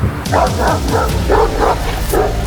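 An aggressive Turkish shepherd dog barks repeatedly in loud, deep, rhythmic bow-wow bursts close by, roughly every half second, over steady background noise.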